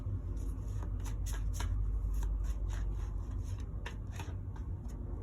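Cards drawn and shuffled from a yin yang card deck, a close, steady papery rustle with soft slides and taps throughout, no talking.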